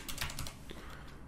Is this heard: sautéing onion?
no